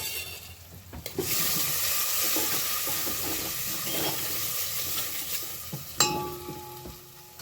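Tomatoes hit a hot spiced oil tempering with a sudden hiss that settles into steady sizzling, with spoon scrapes and stirring, plus a sharp metallic clank near the end.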